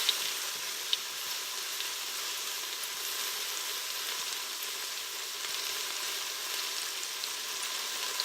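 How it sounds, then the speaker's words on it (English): Bite-sized chicken pieces sear in an uncrowded pan, giving a steady, even sizzle with a couple of faint utensil clicks early on, alone and without talk. "Don't over-fill it because you want it to actually sear."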